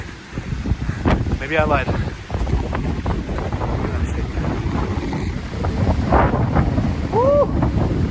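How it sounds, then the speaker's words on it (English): Strong gusting wind roars across a snowy, unplowed mountain road that has been closed after a snowstorm, a continuous low rush with a short burst of talk near the start. "oh god, the wind."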